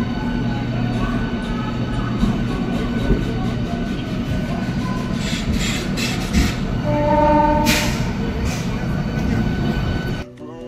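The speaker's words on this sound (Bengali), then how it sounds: "দেখতেই পাচ্ছ খড়গপুর থেকে ট্রেন ছেড়ে দিল।" A Medinipur–Howrah local train pulls out of Kharagpur station with a steady, loud rumble of rolling carriages and brief higher squeals, the noise cutting off abruptly near the end; music plays over it.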